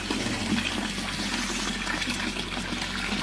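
Rusty brown water runs steadily from a prison tap, a continuous close gushing pour that holds at an even level throughout with no talk.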